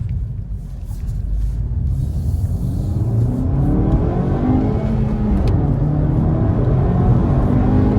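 A Honda Civic FK7 GT with the 1.5 turbo VTEC engine accelerating on the road, a loud low engine rumble with rising pitch as it pulls through the revs, heard steadily from inside the car without talk.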